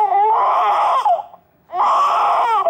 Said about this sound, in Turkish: Bebek ağlıyor, biriniz bakın bebeğe.